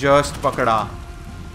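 Rain falls steadily in the video game Uncharted The Lost Legacy, a soft continuous hiss heard beneath a man's loud speech and lingering faintly once he stops.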